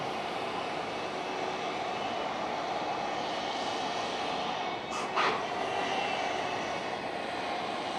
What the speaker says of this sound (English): Sounds like an air start.